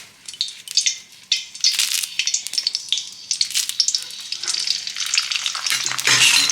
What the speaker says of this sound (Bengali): এবার এই পেয়ারা পাতাগুলো তেলের মধ্যে একেবারে কুচো কুচো করে ছিঁড়ে ছিঁড়ে দিয়ে দেব।